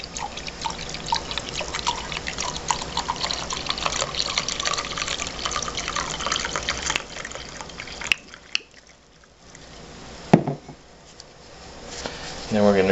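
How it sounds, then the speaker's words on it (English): Spiced cranberry wine pours and trickles into a cup with a gurgling, filling sound, steady and close, with a few clinks and brief pauses near the end. "we're going to pour our Christmas wine over the top of it"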